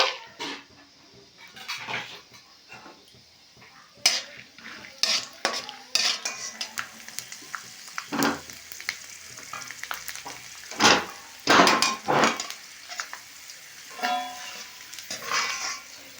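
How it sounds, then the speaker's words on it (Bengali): Peanuts frying in oil in a kadai, stirred with a utensil: repeated metallic scrapes and clinks ring out over a low sizzle, close and fairly loud, with irregular bursts throughout. "এখানে কিছুটা চীনা বাদাম নিয়েছি বাদামগুলো একটু ভেজে নেব"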